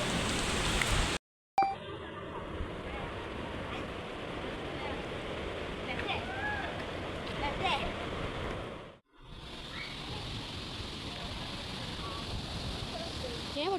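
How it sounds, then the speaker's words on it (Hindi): Heavy rain pours steadily near a beach and waterfall in South Goa, a dense, loud, continuous hiss that briefly cuts out twice, with no talk over it. "यहाँ पे बारिश हो रही है, बहुत ज़ोर से बारिश हो रही है।"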